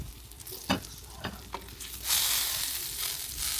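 Adobo meat frying in oil in a pan, a steady sizzle with a few sharp scraping stirs early on, then a louder, denser hiss of frying close up.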